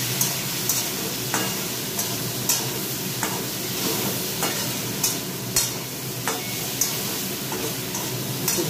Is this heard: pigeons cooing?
no